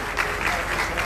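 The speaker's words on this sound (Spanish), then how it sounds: "Un fuerte aplauso para ellos." Applause for a band at the ceremony for the new mayor of La Romana, a brief, dense burst of many hands clapping together, steady and fairly loud.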